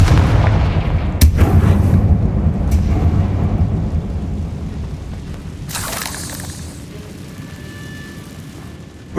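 Fire-spell explosions in the Hogwarts Legacy video game, a loud, sustained booming rumble with sharp blasts near the start and a brighter burst midway that fade toward the end.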